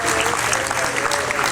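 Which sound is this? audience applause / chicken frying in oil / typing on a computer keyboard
audience applause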